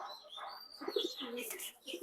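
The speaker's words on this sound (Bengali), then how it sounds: "খুব সুন্দর একটা গররা নর কবুতর" A male pigeon, a racing bird, cooing softly at close range in a few low throaty bursts, with faint chirps and background movement.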